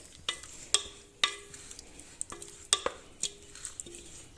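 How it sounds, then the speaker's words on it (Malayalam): A spoon stirring curry leaves and raw coconut oil into a jackfruit-seed and mango aviyal, with a few sharp clinks against the pot and soft scraping between them, quiet and close. "അതുപോലെ കുറച്ച് പച്ച വെളിച്ചെണ്ണയും കൂടെ ചേർത്ത് കൊടുത്ത് ഒന്ന് മിക്സ് ചെയ്തെടുക്കാം"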